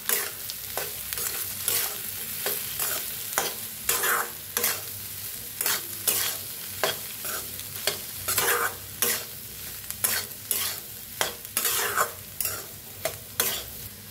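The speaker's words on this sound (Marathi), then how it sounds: "आता ह्याला छान असं भाजून घेऊया, मिक्स करायचं सगळं असं बघा" Food roasts in a pan while a spoon mixes it in regular scraping strokes over a continuous sizzle, close and fairly loud, with the rhythmic stirring repeating across the whole stretch.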